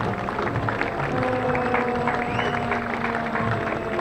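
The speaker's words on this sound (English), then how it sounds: "Another round of applause for the Boy Scouts" Crowd applause for Boy Scouts who served as color guard at a September 11 parade, steady outdoor clapping with a low hum of engines and a sustained tone running beneath it.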